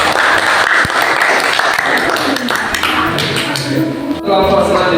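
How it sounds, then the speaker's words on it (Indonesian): Loud, dense applause from schoolchildren in a classroom, a steady wash of many small hands clapping close by, with a few sharper taps and a brief dip near the end. "Beri tepuk tangan anak-anak."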